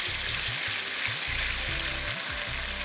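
Onion and ginger-garlic paste fry for a Hyderabadi qeema curry, a steady close sizzle with a few stirring scrapes and no voices.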